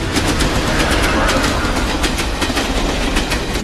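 A train runs past at speed, a loud, continuous rumble with repeated clickety-clack beats from wheels over rail joints, close and steady from start to finish.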